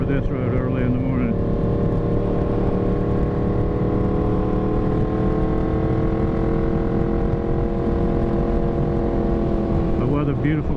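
A Yamaha FZ10 motorcycle ridden along a road on an early morning, its engine a loud, steady droning hum that holds level throughout, with rushing wind noise.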